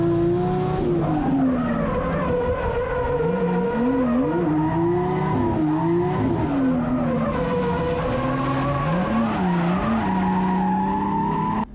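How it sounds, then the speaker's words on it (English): Car drifting on a track with the handbrake locking the rear wheels, a loud, continuous tire squeal that rises and falls in pitch over a roaring engine, close and sustained throughout. "The handbrake locks the rear wheels together, which allows you to slide the rear end out."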